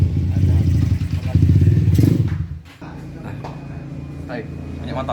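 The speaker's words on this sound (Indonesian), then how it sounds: "Baik, banyak motor." Motorbikes pass by, their low engine rumble loud and continuous for about two seconds before dropping to a quieter drone.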